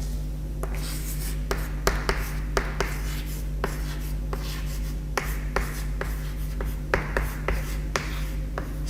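Marker or chalk writing on a board during a Hindi history lecture on the Delhi Sultanate, heard as a steady series of short scratchy strokes and taps over a constant low hum, with no talking.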